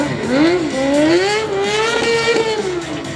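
Kawasaki stunt motorbike fitted with an R1 front end, held in a stand-up wheelie at Santa Pod, its engine note revving and wavering loudly and continuously close by, with no talk over it.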